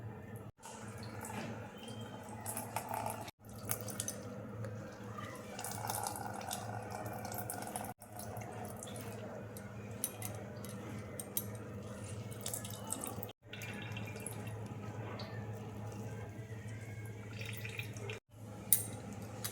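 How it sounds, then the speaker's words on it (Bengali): Water runs and drips steadily while fresh chhana (paneer) is rinsed and its whey drained for mango rasgulla, a soft ongoing trickle broken by a few sharp handling knocks. "এবার দেখো ছানাটা আমি জল দিয়ে ধুয়ে নিচ্ছি। এবার দেখো ছানার জলটা আমি ভালো করে ঝরিয়ে নেব।"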